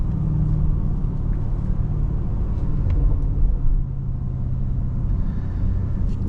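Deep, continuous engine rumble from a 2023 Jaguar F-Pace SVR SUV on the road, a heavy low growl that swells slightly and then settles, heard close with no talking.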